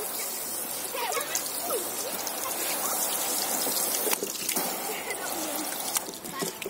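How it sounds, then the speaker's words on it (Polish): Water splashing and trickling steadily while a cleaning brush is rinsed off after scrubbing a camper surface, a continuous close gush with some spatter and no talk. "Spłukajmy sobie."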